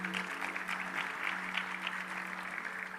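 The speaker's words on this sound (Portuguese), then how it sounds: "uma salva de palmas para eles." Steady applause from a church congregation during an evening worship service, a dense, even wash of many hands clapping at moderate distance with no voices on top.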